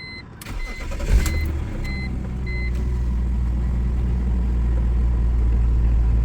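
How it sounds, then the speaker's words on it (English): A 2004 BMW E46 with a faulty Disa valve cranks and turns over, then settles into a steady low idle rumble, with a few short warning beeps near the start. "Let's try to start the car and see."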